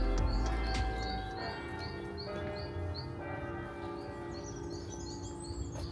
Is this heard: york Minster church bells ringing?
yes